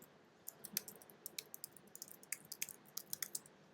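Quick keystrokes on an iMac keyboard, a string of light, crisp clicks tapping out letters in an irregular rhythm, close and fairly soft with no talking.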